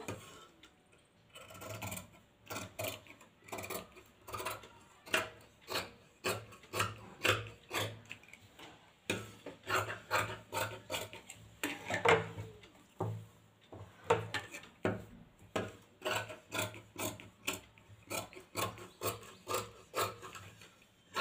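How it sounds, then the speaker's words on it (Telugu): Scissors cutting through the back piece of a cotton-style blouse fabric laid flat, a steady run of crisp snips and rasping strokes repeating roughly every half second, close and fairly loud, with no talk. "ఇప్పుడు బ్యాక్ పార్ట్ మార్కింగ్ అంతా అయిపోయింది, కట్ చేస్తున్నాను."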